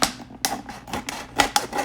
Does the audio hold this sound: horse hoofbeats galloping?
no